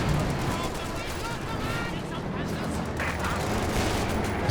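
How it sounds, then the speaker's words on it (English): An artillery barrage in Company of Heroes 2 rumbles on as a continuous roar of shelling and battlefield fire, with a voice talking over the top. "He dropped down some artillery."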